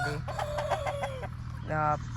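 A rooster offered for sale at a village fowl market crows in a drawn-out call, then clucks briefly a moment later, close and loud over a low background hum.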